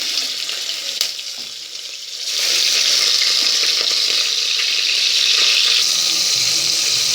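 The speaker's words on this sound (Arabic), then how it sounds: "وانا هنا نزلت باللحمة وقلبتها شوية وحمرتها" Meat browning in a pot of ghee and oil for a Saidi-style Libyan mbakbaka, a loud steady hiss that swells after a brief quieter stretch near the start, then holds close and even with no talk.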